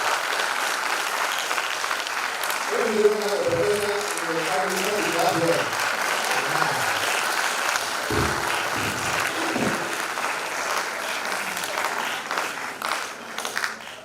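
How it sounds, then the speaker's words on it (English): A university postgraduate research ceremony audience claps steadily for the Vice Chancellor as someone speaks over the applause. "applause to sir. Applause to sir."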